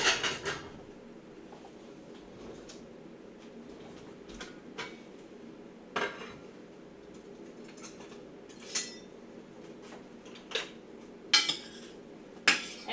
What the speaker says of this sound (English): let me get my plate, and I'm going to put some rice on there